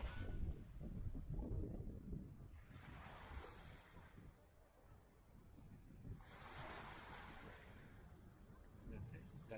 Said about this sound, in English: Here we reach the south end of Karon Beach, a very nice shaded area, very suitable for swimming and snorkeling.